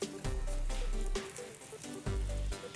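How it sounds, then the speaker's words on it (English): Giant gyozas frying in about half a tablespoon of hot oil over medium-high heat give off a loud sizzle. It comes in two strong bursts with a quieter crackle between them, and no one speaks over it. "now that's a nice sizzle"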